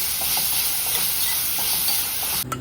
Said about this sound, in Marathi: मी छान तो आपल्याला गुलाबी रंगावर परतून घ्यायचा आहे कांदा